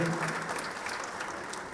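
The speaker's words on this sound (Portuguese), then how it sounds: "eu e meu vice-governador, Geraldo Júnior, aqui eu também peço uma salva de palmas carinhosa pela companhia" Applause in the Legislative Assembly of Bahia in Salvador, a dense, steady round of clapping from a large audience, loud and sustained throughout.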